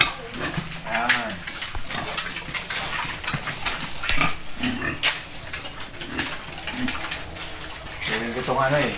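Pigs on a farm where water spinach is grown, grunting and snuffling at close range in bursts amid steady background noise and splashing water, with someone talking intermittently over them.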